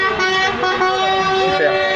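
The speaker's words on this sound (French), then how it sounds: "Les Normands, ils klaxonnent." Passing drivers honk car horns at a motorway toll plaza during a yellow-vest protest, loud sustained tooting layered with several overlapping horns under a busy roadside crowd.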